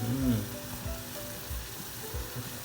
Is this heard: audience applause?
no